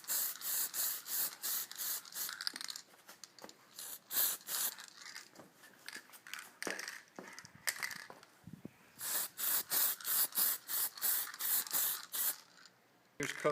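Repeated short bursts of spray paint from an aerosol can coating turn signal lenses, hissing on and off in quick pulses with brief pauses between passes, close and fairly loud with no talking.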